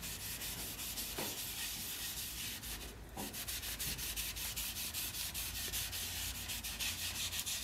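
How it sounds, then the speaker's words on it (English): Wood stain being rubbed by hand into a wooden surface for a walnut-like finish: steady, close, rhythmic rubbing strokes that carry on without pause, with no one speaking. "Just apply it by rubbing it into the wood."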